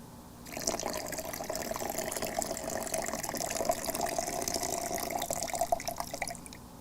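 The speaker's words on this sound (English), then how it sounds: "Peter, pouring water makes me want to pee." Water pours steadily into a vessel for several seconds, a close, continuous splashing trickle heard alone with no talking.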